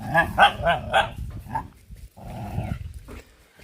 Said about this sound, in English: The dog and the he-goat, they're fighting.